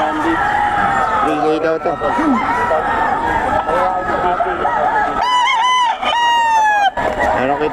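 Roosters crow at a Philippine market, several loud, drawn-out calls rising over the crowd noise, with two clear crows near the end. People talk and haggle throughout.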